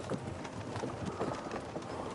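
Steady rhythmic clip-clop of horse hooves at a trot in the video game Kingdom Come: Deliverance 2, moderately loud and continuous, with faint ambient background and no talking.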